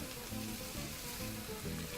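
Beside the grill, a pot of tilapia trimmings boils for a fish bouillon, giving off a steady, close, sizzling bubble with a slight pulsing rhythm and no speech.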